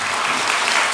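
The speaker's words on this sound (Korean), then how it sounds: "우리 하나님께 영광의 박수 올리겠습니다." A church congregation applauds during a Sunday worship service, a dense, even wall of clapping that holds steady throughout the brief moment.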